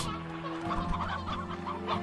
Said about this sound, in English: These chickens are just bursting out of their coops!